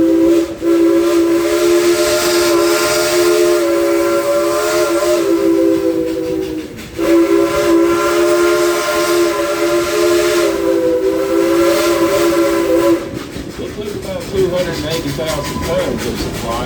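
The Dollywood Express steam locomotive, Engine 192, sounds its whistle in two long, loud, sustained blasts separated by a brief gap, with hissing steam and train noise continuing afterward.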